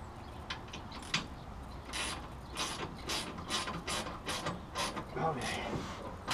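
A hand ratchet tightens a bolt on the restored front end of a 1972 Oldsmobile Cutlass, its rapid clicking coming in repeated bursts close up, with a little low workshop rumble and no talking.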